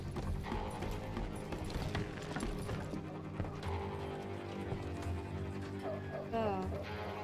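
Horse hooves clip-clop steadily in the Western video game Call of Juarez: Gunslinger, mixed with dense game music and effects, with a brief whinny-like sound near the end.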